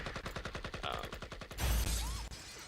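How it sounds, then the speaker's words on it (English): A rocket crash effect in a hip-hop beat lands as a loud, heavy low-end boom with a wash of noisy debris and a short descending whistle. It follows a series of rhythmic plucked beat notes and fades out over a couple of seconds. "Kind of sounded like a crash in space, so rocket crash."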